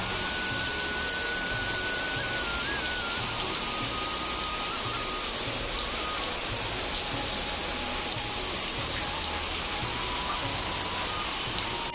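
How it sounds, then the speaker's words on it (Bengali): Light rain falls steadily outside on a wet day, a soft, even patter on surfaces that continues without a break. No voices are heard. "এখনও কিন্তু আস্তে আস্তে বৃষ্টি পড়েই"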